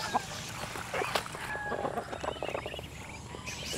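Chickens, ducks and geese on a farm, feeding on kitchen scraps; scattered clucks and calls come through a busy, steady background of farmyard bustle, with no clear talk.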